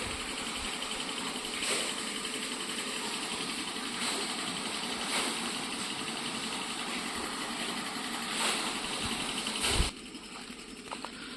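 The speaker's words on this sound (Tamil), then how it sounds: "ஒரு போர்வெல் இருக்குதுங்க, கம்பர்சல் ஓடிட்டு இருக்குதுங்க." A 7.5 HP borewell compressor pump motor runs on a coconut farm, a steady close mechanical drone with a few brief knocks, alone and continuous until it shifts abruptly near the end.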